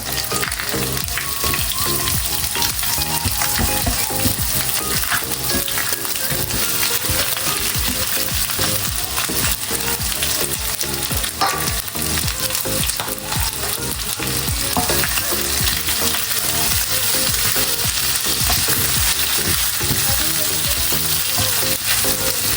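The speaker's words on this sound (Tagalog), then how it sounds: "Ako po ay magigisa na ng ricado ng bawang sibuyas at saka po luya." Garlic, onion, ginger and chicken sauté in a hot pan, giving a loud, dense, continuous sizzle and frying hiss with faint stirring scrapes, and no voices over it.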